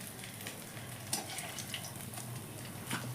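Soybean fritters (bora) frying in a pan of oil, a soft continuous sizzle with faint bubbling and an occasional small pop, quiet and close with no talk.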